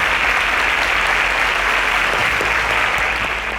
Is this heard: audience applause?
yes